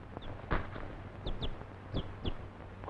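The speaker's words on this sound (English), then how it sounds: "A chicken?" A chicken clucks softly in a 1943 Roy Rogers western, giving a few short, scattered clucks at a low level with no voices over them.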